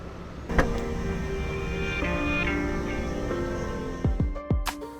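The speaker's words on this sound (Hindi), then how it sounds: "Alright, unlocking your trunk." A Honda City or Hyundai Verna car trunk unlocks on a voice command, giving a close mechanical click and motor whir, then a couple of sharp latch thumps near the end over a steady cabin hum.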